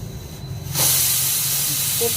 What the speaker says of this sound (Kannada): ಅದು ಕುಕ್ಕರ್ ಕೂಗೋಗಂಟೆ